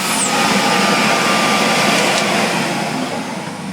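A refurbished vintage Electrolux XII (Model 12) vacuum cleaner runs loudly and steadily with a constant whooshing roar and a whining tone, easing slightly near the end.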